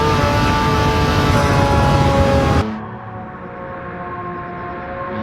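A RUF CTR Yellowbird sports car roars past at high speed with a loud, dense engine and road noise that cuts off abruptly halfway and drops to a quieter, steadier hum.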